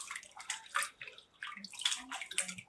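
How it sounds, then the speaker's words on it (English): Nixtamalized Hopi blue corn rubbed between hands in a bowl of water gives soft, irregular sloshing and swishing bursts, close and fairly quiet, with brief pauses between strokes. "start rubbing the corn between your hands like that, just to rub off all of those skins"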